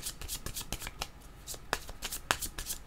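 A deck of tarot-style cards being shuffled for a reading makes rapid, close riffling and flapping bursts with a few sharper snaps, continuous throughout and heard without speech.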